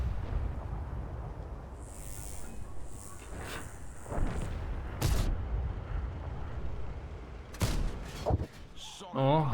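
Booming tank cannon blasts from a game, a Leopard PT A firing two or three sharp heavy shots spaced apart over a rumbling engine background, with a brief burst near the end.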